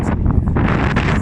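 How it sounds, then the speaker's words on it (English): Wind gusting hard across an outdoor microphone beside a 2008 Holden Captiva 4x4 SUV, a loud steady buffeting roar with rumbling low swells lasting the whole moment, no voices. "So a little gust of wind took it clean off."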